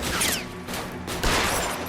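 Video game gunfire from L.A. Noire, a dense burst of overlapping shots and booms filling under two seconds, loud and continuous with no pauses.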